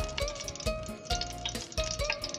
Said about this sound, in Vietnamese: bây giờ mình sẽ để dầu vô nha cả nhà